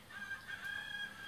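A rooster crow plays from a farm sounds baby book, a short, faint electronic cock-a-doodle-doo with a thin, tinny tone.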